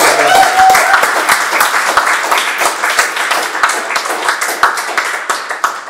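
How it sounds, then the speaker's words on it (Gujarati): Audience applause for a singer at a Gujarati music talk show, dense crisp clapping that holds steady and loud for several seconds, with individual claps standing out as it begins to thin. "એકવાર જોરદાર તાળીઓ આશિષભાઈ"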